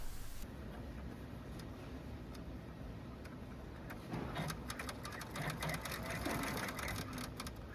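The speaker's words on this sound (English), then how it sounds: "take it to your embroidery machine, and print or stitch that out." Embroidery machine stitching out a fill stitch design, a steady rapid mechanical chatter of needle strokes that grows busier and louder partway through, with no talking.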